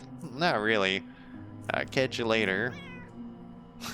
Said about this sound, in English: That's definitely a cat. That's the cat sound.